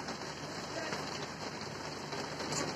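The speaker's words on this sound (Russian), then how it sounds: "И вот такой вот проливной дождь." Heavy rain falls at a Starominskaya railway station, a dense, steady hiss of drops on surfaces, close and continuous.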